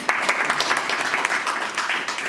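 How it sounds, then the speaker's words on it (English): Guests clap for graduates at a parenting training celebration, a lively, even patter of many hands at modest volume with a few sharper claps standing out, sustained throughout. "A round of applause for them, please."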